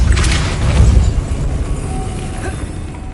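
The Depulso force-push spell is cast in the Hogwarts Legacy video game, giving a dense, rumbling whoosh with a boomy impact that swells and then fades over about three seconds, with no talk.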